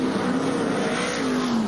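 A sprint car engine howls past on the slick dirt of Bordertown racetrack, a loud high revving tone sweeping across the brief moment with no voices.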